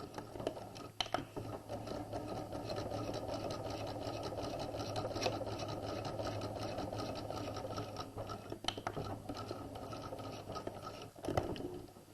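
A sewing machine stitching skirt seams with a quarter-inch seam runs in a steady, fast mechanical whir, faint and close, with a few brief clicks at the start and end.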